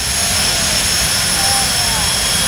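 A jet engine mounted on a go-kart at a jet car drag racing event roars as a loud, steady broadband rush with a high whine held throughout.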